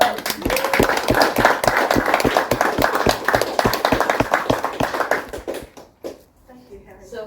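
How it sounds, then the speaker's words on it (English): A room at a memoir launch about fifty years in Bougainville fills with a round of hand clapping, fast, even claps close by that run for several seconds and then stop, followed by a voice speaking. "the person who made this happen is standing right there and deserves a round of applause"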